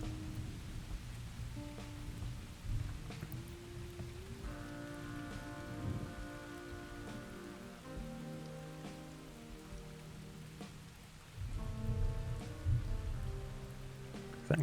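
Rain from a storm drumming on a tarp stretched over a barn on an off-grid farm, a steady close patter throughout with no voices.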